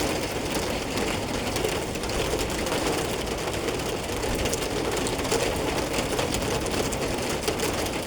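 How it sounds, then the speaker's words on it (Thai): Steady rain falls in a dense, even hiss that continues unbroken throughout, with no voices. "ฝนตกแต่ฟ้าแจ่ม"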